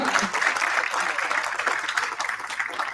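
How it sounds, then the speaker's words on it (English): Applause from an audience at a Māori language arts graduation showcase evening, a continuous moderate round of clapping with a slightly uneven, lively texture throughout. "Just a big round of applause to our Toi Reo whānau."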